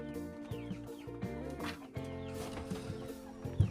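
Laying hens almost a year old cluck and murmur in a busy chorus, with a few louder squawks standing out over steady farmyard background.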